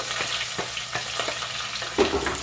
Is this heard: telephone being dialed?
no